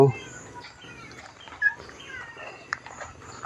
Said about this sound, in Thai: ชีวิตการเป็นอยู่ของน้องเหมียว